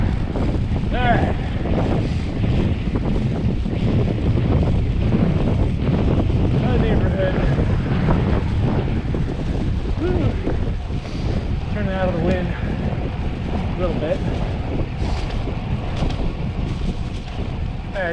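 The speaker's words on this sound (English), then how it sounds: "bit of the headwind coming home here" Steady, loud wind buffeting the microphone as a headwind meets a cyclist riding home, a continuous roar with faint talk underneath.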